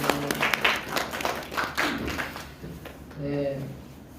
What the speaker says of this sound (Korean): 우리 옆 사람은 좀 바라보면서 박수로 한번 격려하십시오.